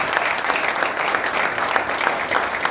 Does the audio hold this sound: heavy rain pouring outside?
no